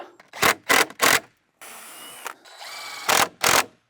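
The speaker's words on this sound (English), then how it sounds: "Now I'm gonna screw these legs into this structure." A power drill driving screws to fix wooden legs into a toilet shack frame, several short loud whirring bursts in quick succession with a longer grinding run in the middle, close up with no talking.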